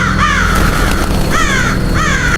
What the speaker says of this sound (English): Suddenly, dozens of crows erupted from the branches. Their cries echoed through the forest.